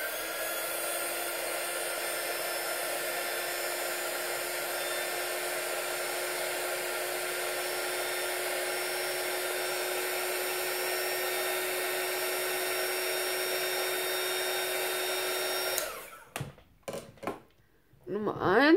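A hair dryer blows glue and glitter dry on a handmade pop-up craft card, a loud, steady whine and rush running unbroken for about sixteen seconds before it cuts off into brief handling noises.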